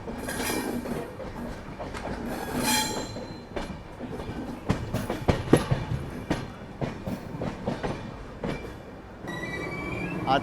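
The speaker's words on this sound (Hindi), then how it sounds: "यार्ड में जा रहे हैं गरीब रथ के कोच" Garib Rath train coaches roll into a rail yard, with rumbling wheels, rhythmic clanks over rail joints and repeated sharp wheel squeals, fairly close and varying in loudness.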